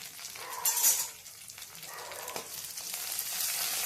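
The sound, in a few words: sautéing cumin, coriander, chili and garlic paste in oil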